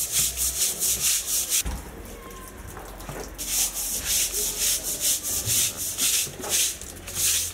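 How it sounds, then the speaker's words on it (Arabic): Feathers being plucked from a rooster by hand give steady rough rubbing and tearing bursts close by, repeating in a quick rhythm with a short pause early on. "المهمه ديالك هي تريشي لنا هذا الديك"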